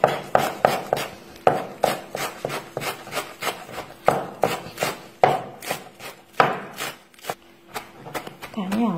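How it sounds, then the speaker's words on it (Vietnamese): A knife finely chops mung bean cake ingredients on a board: a brisk, uneven series of close, crisp strikes, sometimes in quick clusters, continuing steadily for about nine seconds. "Cho nên mình thái thật nhỏ."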